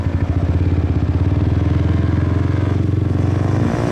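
A Yamaha R15 motorcycle with an aftermarket exhaust revs loudly and close by on a Saigon street, its engine holding a steady, rough, pulsing drone for several seconds with no talk over it.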